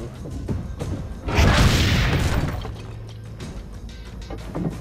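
A cannon fires in Assassin's Creed Brotherhood, giving a single loud, booming blast with a rushing roar that fades over about a second, followed by a quieter background.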